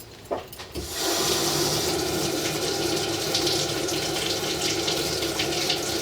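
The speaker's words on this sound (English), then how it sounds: "Can you turn that sink on?" A sink is turned on and water runs into a clogged 4-inch drain line. After a brief pause it becomes a loud, steady gushing rush that continues without a break.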